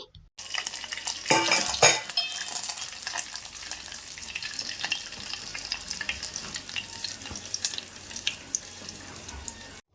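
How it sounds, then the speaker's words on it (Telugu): Garlic, seasoning seeds and curry leaves frying in oil in a pan for a tomato pickle, a steady close crackling sizzle with sharper spits early on, ongoing and uninterrupted, with no talking. "ఇందులోకి కరివేపాకు కూడా వేసుకొని ఫ్రై చేసుకోవాలి"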